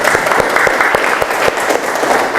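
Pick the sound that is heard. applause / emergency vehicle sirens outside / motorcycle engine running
applause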